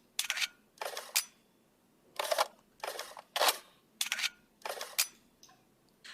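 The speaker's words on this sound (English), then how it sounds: "there's a pistol clip insert cue. Sounds like a click." A series of sharp mechanical video game pistol clip insert clicks and clacks, close and crisp, arriving in irregular pairs with short quiet gaps between them.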